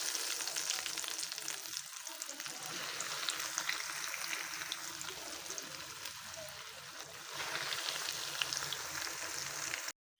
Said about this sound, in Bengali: তো বাকিগুলো এখন আমি সেম প্রসেসে ভেজে নেব।